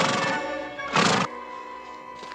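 A horse whinnies in a short, bright burst in the middle, framed by a steady tonal background, with no speech over it.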